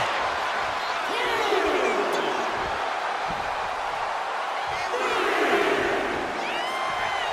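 Arena crowd in the WWE 2K25 wrestling video game roars steadily throughout, with scattered whoops and cheers rising over the continuous din.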